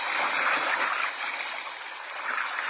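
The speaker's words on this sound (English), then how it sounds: "A narrow stream of water ebbs and sucks its way through rocks" Water in a narrow stream flows and sucks steadily through a rocky gully, a continuous close hiss of trickling and gurgling with no break.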